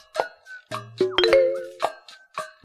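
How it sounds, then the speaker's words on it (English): A doorbell rings with a ringing ding-dong chime amid a busy, musical mix of plucked and struck tones, loud and close. "the doorbell rang"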